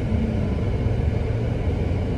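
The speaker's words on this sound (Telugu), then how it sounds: "రోడ్ అంతా కార్లే" Cars moving in busy road traffic, a loud, close, continuous low rumble of engines and tyres that holds steady without distinct passes.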